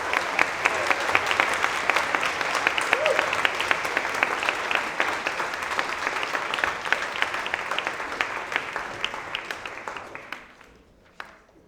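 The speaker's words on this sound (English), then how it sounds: "A huge round of applause to all our VP participants." Sustained applause from a students' union election audience, dense steady clapping for about ten seconds before quickly dying away.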